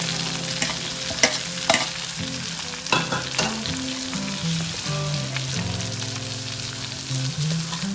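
Onions frying in oil left from frying other biriyani ingredients, a dense close sizzle with sharp scraping and clanking stirs against the pan, plus a low hum underneath.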